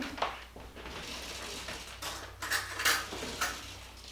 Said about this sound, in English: Let me get a spoon and I'll taste it for you.